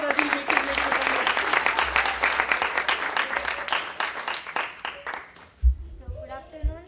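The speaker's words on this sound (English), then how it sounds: "let's give him a big round of applause as he makes his way to the front" An audience claps in a loud, steady round as a speaker walks to the front, and the applause fades out toward the end, where a voice and a low thump follow.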